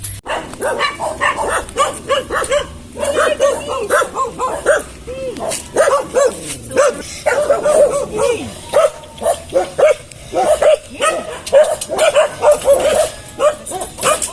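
Several dogs bark and yip repeatedly at a dog shelter, loud and close, in dense overlapping bursts throughout, with a few whimpers mixed in.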